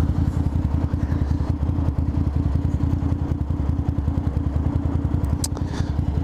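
Ducati motorcycle engine running close by, a loud, steady, even-pulsed throb with clattery mechanical chatter, continuous throughout with no talking.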